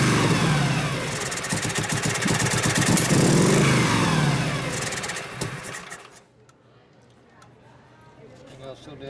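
A 1965 Harley-Davidson Panhead FLH with a 74ci engine and a Linkert carburettor, starved of fuel, chugs loudly up close at a rough idle, then dies away about two-thirds through, with voices over it.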